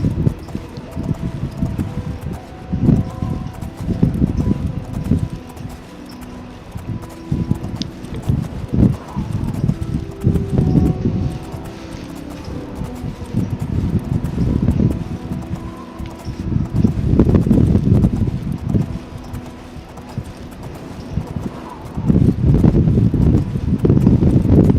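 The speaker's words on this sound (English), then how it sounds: "There's my horse." Horse hooves clip-clopping in the Oblivion video game, a steady rhythmic gait over wind and rustling, continuous throughout at fairly loud level.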